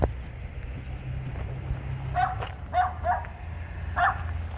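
A dog barks a few times at a moderate distance, short separate yaps over a low steady background rumble.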